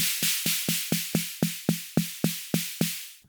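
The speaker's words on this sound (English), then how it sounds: "Next up, we have the snare," Snare hits from an Arturia DrumBrute Impact analog drum machine repeat at an even, quick tempo, about a dozen in all. Each hit is a sharp tonal crack with a noisy, snappy tail that decays fast. There is no talking.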